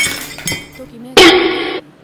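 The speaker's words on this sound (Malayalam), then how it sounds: "റിംഗ് ലൈറ്റ് പൊട്ടി" A ring light topples and breaks: a couple of soft knocks, then a loud, close burst of shattering glass lasting about half a second before it cuts off.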